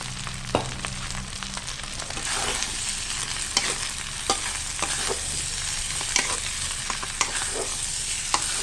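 Fried rice with chili sauce stir-fried in a pan, a steady close sizzle with scattered clicks and scrapes of the spatula against the pan throughout.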